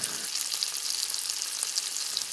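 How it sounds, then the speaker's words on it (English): Sliced reindeer meat fries in a pan with a steady, dense hiss and crackle of sizzling fat, close and even throughout with no voices. "So we fry separate for a few times"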